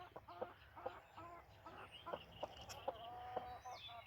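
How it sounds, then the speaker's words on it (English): A broody hen clucks in a backyard garden coop, a string of short, evenly spaced clucks close by with other chicken sounds and faint birdsong behind. "She's my little broody hen."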